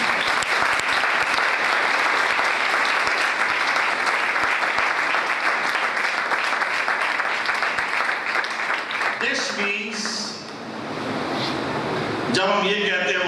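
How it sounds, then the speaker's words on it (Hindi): A church congregation bursts into loud, sustained applause during an Easter sermon on the resurrection. The clapping is dense and steady for about nine seconds, then thins out near the end as a few voices come through. "आई एम यीशु के लिए जोरदार ताली।"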